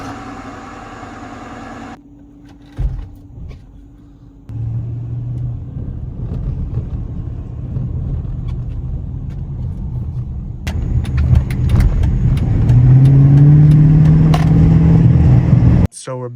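A Dodge Challenger R/T with 54,000 miles idling with a low rumble, then driven off, its engine growing louder and deeper as it accelerates, with brief clicks and a voice speaking early on.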